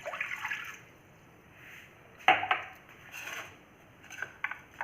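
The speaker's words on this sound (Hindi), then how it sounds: "1 गिलास पानी डालकर" Water is poured from a glass into a pot holding black pepper and a piece of rock sugar for a home cough remedy, giving a few short, close splashes and clinks against a quiet background, with no talking.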